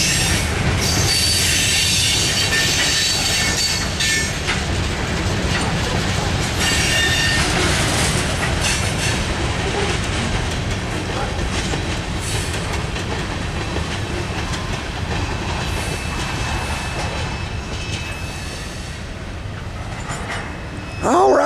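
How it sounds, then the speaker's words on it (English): A CSX intermodal freight train rolls past heading westbound, its wheels clattering and squealing in a loud, steady roar that lasts throughout. "that's a CSX intermodal train westbound"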